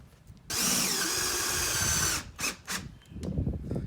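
A power drill drives a screw into a wooden floorboard, a loud continuous whine for about a second and a half, then a few short bursts as the screw is snugged down.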